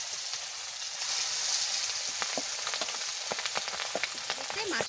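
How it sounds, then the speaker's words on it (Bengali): Pangas fish frying in hot oil, a steady loud sizzle with scattered sharp pops and spatters throughout, close by and without talking. "এই পাঙাশ মাছের না এই একটা গুণ, জম্মের ফোঁটা ফুটে।"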